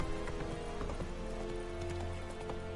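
Hooves of Roach, Geralt's horse in The Witcher 3, clip-clop at a run in a steady rhythm close by, set against continuous game ambience and a low droning tone.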